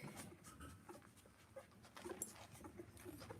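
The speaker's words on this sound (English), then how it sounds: "That's the noise of puppies getting milk." Faint, wet suckling and gulping with soft squeaks and whimpers from ten-day-old Labradoodle puppies nursing, close up over a quiet hiss.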